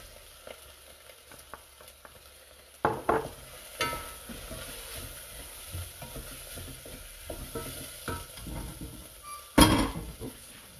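Onions frying in a very hot pan give a steady sizzle, broken by louder scraping stirs and clinks of a utensil against the pan, with a sharp burst near the end.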